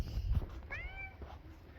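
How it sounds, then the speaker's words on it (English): A cat meows outdoors, one clear drawn-out meow, fairly close, with low rumbling background noise before it. "Oh, I hear the cat."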